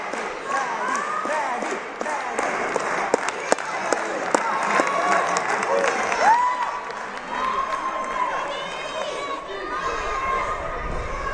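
Arena crowd at a UNX Season 1 Major 1 finals event roaring with applause and cheers, building steadily and sustained throughout, with chant-like voices rising through the dense, loud noise.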